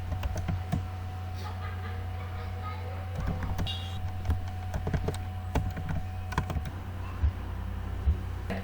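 Steady, rapid keystrokes on a computer keyboard while CSS code is written, close and continuous, with irregular clicks over a constant low electrical hum.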